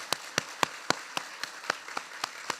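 Hands clapping in a church congregation to welcome new members, heard as faint, evenly spaced single claps in a steady beat at a distance, with no talk over them.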